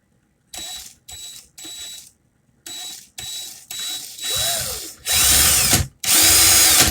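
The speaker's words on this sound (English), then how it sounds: "Put it into my drill." A power drill spins a wire-spacing setup in short bursts. Its whirring and ratcheting comes in stop-start pulses that grow longer and louder, close to the microphone.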